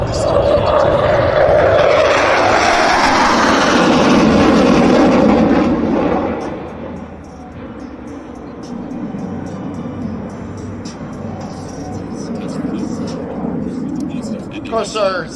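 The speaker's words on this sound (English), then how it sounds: "Another pass by our CF-18 Hornet from the left." A CF-18 Hornet fighter jet passes from the left during an airshow at Cold Lake, its loud roar swelling and then sweeping past before fading into a lower rumble with some distant noise.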